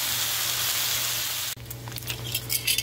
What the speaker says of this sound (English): Fry the bacon up